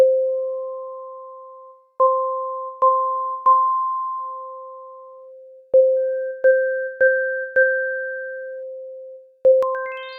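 Pure electronic tones from an additive synthesizer's harmonic editor ring out in short sequences, sustained notes with sharp attacks that decay, ending with a quick rising run of bright tones.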